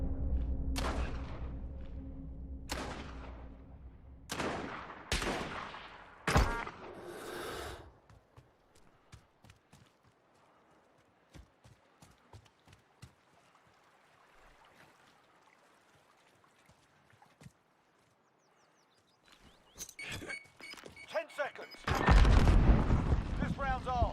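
Carbine gunfire in a video game, several sharp close shots in a burst early on, then sparse faint pops, then another loud volley near the end, with people talking over it.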